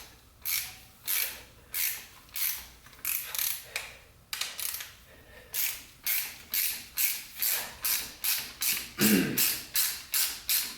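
Repeated close ratchet strokes loosening a stuck bolt in the center support of a 4L80E transmission, about twenty rhythmic bursts of rapid metallic clicking with short gaps, getting more regular toward the end.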